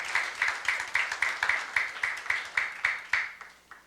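A church youth congregation claps in a steady rhythm, about a dozen sharp, evenly spaced beats over four seconds, close and moderately loud with no talking over it, fading at the end.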